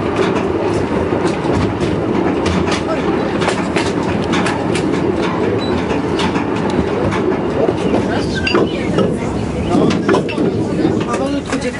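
A train rolls through a small railway station at Rudy Raciborskie during a railway workers' day, with continuous clickety-clack of wheels over rail joints and scattered metallic clanks, heard close by while people talk in the background throughout.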